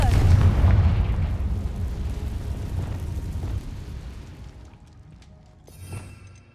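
A Confringo spell blast in the video game Hogwarts Legacy: a heavy, rumbling explosion with a loud booming onset that rolls and decays over several seconds, followed by a smaller secondary thump near the end.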